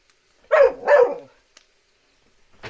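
A dog barks twice in quick succession, close and loud, as its owner cooks at an off-grid home, followed by quiet and a faint shuffle.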